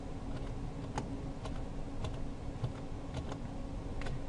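Keys tap on a computer keyboard in a sparse, irregular rhythm, each press a small distinct click over a steady low hum, close and fairly quiet.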